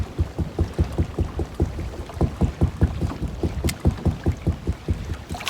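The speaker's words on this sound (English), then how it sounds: "The wind's blowing so hard I can't do nothing about it." Strong wind on a lake blowing against a fishing boat during a cold front, with water slapping the hull in a steady, rapid rhythm of rolling thumps and a constant wind rush throughout, with no talk.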